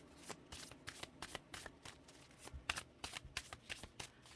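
A deck of Tina Gong tarot cards is shuffled by hand in a steady series of about twenty quick riffling bursts, close and crisp, with no talking.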